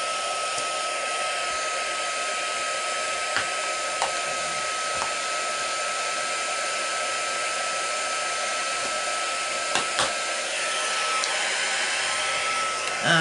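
An embossing heat gun blows steadily with a loud, even whoosh for the whole stretch, broken only by a few faint clicks and taps nearby, with no talking.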